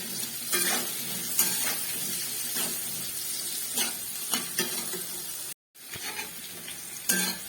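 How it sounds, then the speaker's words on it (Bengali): Potatoes fry in oil with salt and turmeric, a dense sizzling hiss broken by repeated spatula scrapes and knocks against the pan, with a short cut to silence late on. "আলুটাকে আমি ভালো করে ভেজে নেব, একটু লাল করে ভেজে নেব।"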